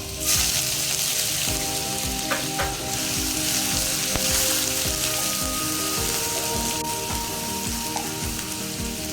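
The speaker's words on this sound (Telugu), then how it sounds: "అల్లం వెల్లుల్లి పేస్ట్ వేసుకోవాలి" Ginger garlic paste sizzles and fries in hot oil for a crab curry, a dense continuous crackle with faint stirring scrapes running throughout, no voices.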